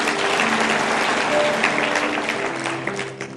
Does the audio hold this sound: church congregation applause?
yes